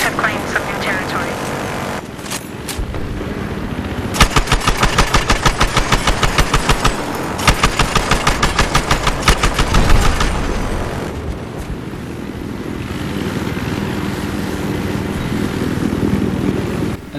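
Rapid bursts of helicopter-mounted gunfire in Battlefield Hardline rattle out in repeated volleys over a steady rotor and engine drone, with louder firing stretches between calmer flight; a voice talks through parts of it.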